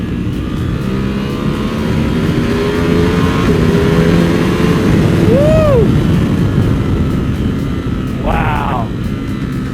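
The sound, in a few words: custom Monster 1200 motorcycle accelerating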